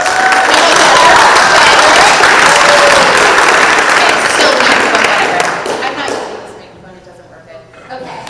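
Audience at a high school community scholarship award ceremony applauding and cheering, loud dense clapping and crowd noise that carries on for several seconds and then fades away toward the end.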